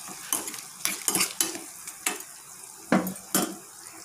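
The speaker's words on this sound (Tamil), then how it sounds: "இப்போ இந்த டைமில் வந்து ரெண்டு வரமிளகாய் ஆட்" Two dried red chillies added to hot tempering oil with chopped onion for an araikeerai masiyal, a light sizzle broken by several sharp scraping stirs and clinks of a utensil against the pan.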